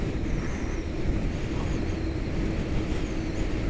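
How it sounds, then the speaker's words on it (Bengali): A steady, heavy rumble of a train rolling past beneath a railway overbridge, continuous and close, with no voices. "এই ওভারব্রিজের নিচ দিয়ে চলে যাচ্ছে ট্রেন, নিচে দিয়ে।"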